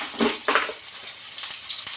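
Dried red chillies dropped into hot oil with cumin and onions for pongal, a close sizzling hiss with bursts of crackle and a few sharp pops, heard alone.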